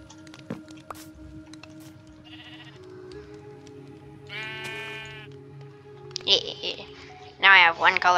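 Several short sheep bleats in a video game come in bursts amid quiet game-like background tones, ending with louder, nearer bleats.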